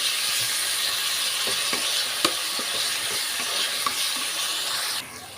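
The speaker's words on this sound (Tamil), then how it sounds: "ஒரு கொத்து கருவேப்பிலை ரெண்டு பச்சை மிளகா சேர்த்துக்கிறேன் அது கூடவே கொஞ்சமாக உப்பு சேர்த்துக்கிறேன் தக்காளி வந்து நல்லா வதங்கட்டும்" Tomatoes with a sprig of curry leaves, two green chillies and a little salt sautéing in a pan for fish curry, a steady close sizzle broken by light ladle scrapes and taps, no voices.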